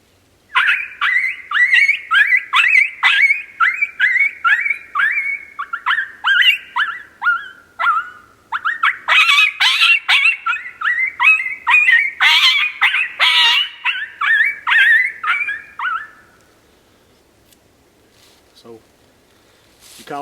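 An MFK Bunny Bird predator call is blown to imitate coyote pup distress: a rapid, loud run of yelping, whining cries for about sixteen seconds, then it stops, leaving near silence.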